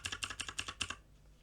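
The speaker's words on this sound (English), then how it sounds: "left hand bracket key on your keyboard" Quiet, close computer-keyboard clicks, about eight quick keypresses in an uneven run, stop abruptly and leave near silence.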